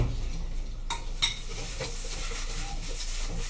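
Half a kilo of pork hits a hot pan for northern Thai sai ua, sizzling steadily while a utensil scrapes and clacks against the pan in a few sharp stirring strokes.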